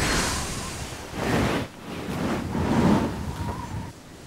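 Cartoon wind gusts blowing a kite away in a children's animated train story, a steady whooshing rush that swells and fades in broad waves, heard alone without voices.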